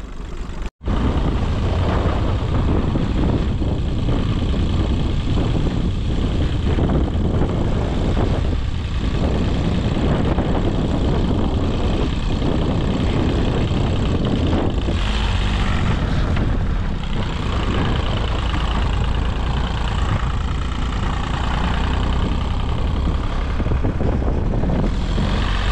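Bizon combine harvester engine running steadily, a loud continuous rumble and drone close by, with a brief knock near the start.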